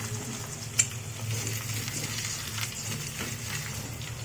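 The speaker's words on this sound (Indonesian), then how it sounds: "Ini telurnya saya dadar dulu seperti ini." Beaten egg frying as an omelette in a pan, a steady soft sizzle with faint crackle and one small sharp tick, close and quiet throughout.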